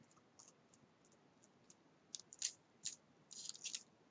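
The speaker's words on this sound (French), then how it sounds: "Hop, comme tout à l'heure, je coupe des languettes." Small scissors snip paper tabs for a little ballerina-and-basket craft, a quiet series of sharp clicks that grow denser toward the end.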